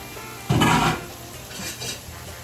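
A lid drops onto a cooking pot of stewed cod and yuca vegetables with a single bright metallic clank and a short ringing tail, followed by faint kitchen clatter.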